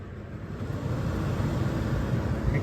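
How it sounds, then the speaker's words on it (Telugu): The air conditioning blower in a Mahindra XUV500 W10 cabin, just switched on, gives a steady, close whooshing rush of air that swells slightly and then holds even. "మీకు ఇక్కడ గాలి శబ్దం వినిపిస్తుంది కదా."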